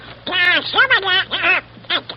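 A man imitates Donald Duck's voice in a radio quiz show for children, several quick nasal, squawking, quacking bursts of vocal sound up close, separated by short pauses.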